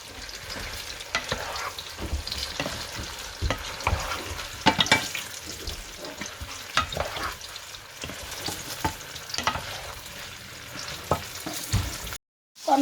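Chicken pieces for chicken manchurian fry and sizzle in a pan, with steady crackling and repeated stirring scrapes over about twelve seconds, close and moderately loud, ending in a brief silence.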